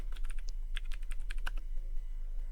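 Rapid typing on a computer keyboard, with quick, close clicking keystrokes over a faint steady hum.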